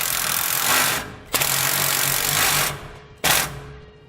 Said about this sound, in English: Go back and tighten on your bolts using a 9/16 socket.